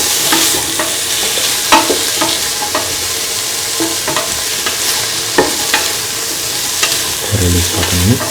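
Carrots and bottle gourd sauteing in a pan, a loud continuous sizzle punctuated by regular spoon scrapes and taps while stirring, close up with no talking.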